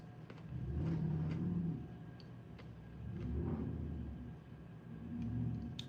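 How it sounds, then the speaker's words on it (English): Truck driving fast past on a snowy road outside, heard as a low engine rumble that swells and fades in repeated passes, moderately loud with no talk. "Y'all hear that truck?"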